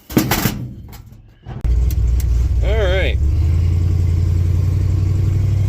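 A Honda K20 car engine fitted with new mufflers settles into a steady, low idle after some rustling and a brief voice, its deep rumble droning on evenly and close.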